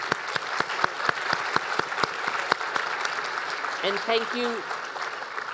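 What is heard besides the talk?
audience applause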